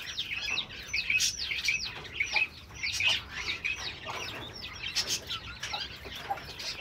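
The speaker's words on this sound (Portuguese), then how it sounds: "Aqui estão minhas outras codornas gigantes." Giant quails in their pen, some of them laying, giving repeated high chirping calls and clucks close by over soft rustling, with no one talking.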